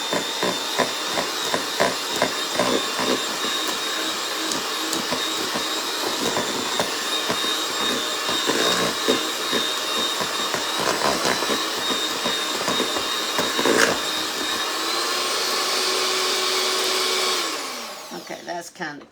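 Soft cream cheese whipped until creamy with an electric mixer, a loud steady whir running continuously, then winding down and stopping near the end.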